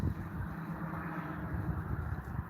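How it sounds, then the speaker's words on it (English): Outdoor morning wind gusting against a microphone as a low, rumbling buffet that stays fairly steady and soft. "A little windy this morning."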